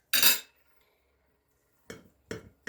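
A knife clatters sharply against a dish while cutting a slice of cheese and apple casserole, followed after a pause by two quicker, lighter scrapes and knocks, close by with no talking.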